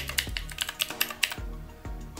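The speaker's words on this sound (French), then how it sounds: "Oh, mais écoutez ce son. C'est un clavier mécanique," Mechanical keyboard keys built into a retro Bluetooth speaker with a screen and pixel-art games, pressed about eight times at close range in an uneven, clacky rhythm, with no voices.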